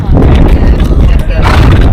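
A horse on a Patagonian hiking trail in Torres del Paine is heard close up, with hoof clip-clops and a short whinny, while people talk over the sounds.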